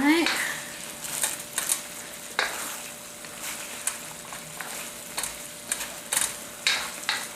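Orange salmon with garlic and ginger cooking in a pan, with a soft steady sizzle under repeated scraping and stirring clicks of a utensil against the pan, moderately close.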